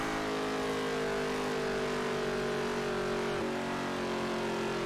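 A NASCAR stock car engine in the NASCAR Heat 3 video game drones at steady high revs through a lap, its tone holding nearly level with a slight dip near the end, loud and continuous with no talk.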